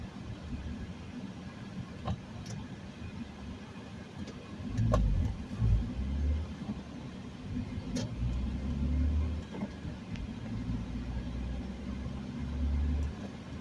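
A manual transmission car driving at low speed with clutch-pedal gear shifts: a steady engine rumble from inside the cabin that swells and eases with several changes in revs, plus occasional clicks and knocks.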